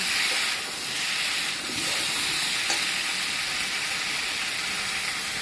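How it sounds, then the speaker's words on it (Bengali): Ginger, cumin, dried chilli and a little coriander fry in a pan of hot oil for a Bengali duck egg curry, giving a steady, close sizzling hiss that holds evenly throughout with no talking. "এখানে আদা জিরা শুকলা লঙ্কা আর অল্প একটু ধনা দিয়েছি এই মশলা আমি এখন দিয়ে দেবো"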